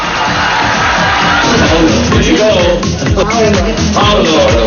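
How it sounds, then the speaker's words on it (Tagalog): A television variety show studio audience of Eat Bulaga cheers and applauds for a performer, a loud dense crowd roar with shouts running throughout. "palakpakan na may kasamang sigawan!"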